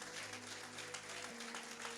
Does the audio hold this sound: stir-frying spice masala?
no